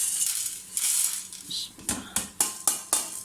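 Whole spices for Hyderabadi chicken biryani, including cinnamon pieces, black and green cardamom, saffron and mace, dropped into a cooking pot, giving a few close, sharp clinks and rattles in a short, spaced series.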